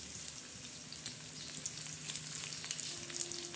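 Garlic and cumin sizzling in hot oil for a tempering, a soft, steady crackle and hiss heard close up with no talking, while cooking a bitter gourd fry.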